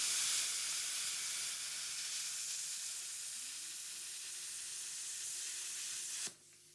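Plasma cutter at 45 amps slicing through half-inch steel plate, a steady loud hiss of rushing air and arc that runs evenly, then cuts off abruptly near the end, leaving a faint hum.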